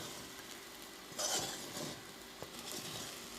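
Idiyappam upma is stirred in a hot pan, with faint scraping and soft sizzling plus a few light clinks of a utensil against the pan, quiet and close with no talking.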